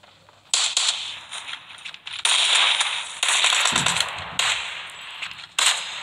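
Grenade blast and gunfire in a kart98 team deathmatch shooter game, several sharp loud bursts and crackling reports spread across the clip with short gaps between them.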